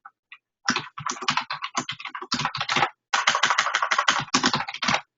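Rapid bursts of clicky computer keyboard typing, close and crisp, come in quick runs with a brief pause midway.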